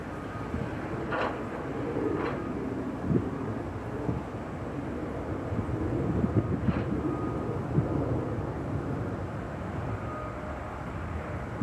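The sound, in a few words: airliner at Chicago O'Hare airport, Aer Lingus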